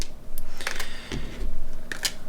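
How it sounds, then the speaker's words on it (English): Small knife screws drop and rattle into a bag, making close, crisp clicks and jingles in a few short bursts over a low hum, with no talk. "I'm just going to put these screws in here as well."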